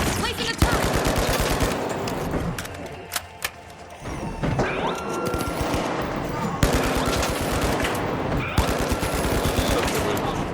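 Turret machine-gun fire in a video game, loud rapid bursts rattling almost continuously through the scene, with brief pauses between volleys and sharp thuds mixed in.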